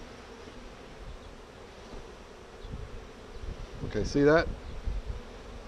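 Honey bees buzz around an open hive during a beekeeping lesson, a low steady hum under brief talk, with a closer bee passing by loudly near the end.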